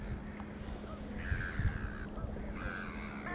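Birds call at Edgbaston Reservoir, harsh crow-like caws repeating at moderate distance over steady outdoor ambience and wind.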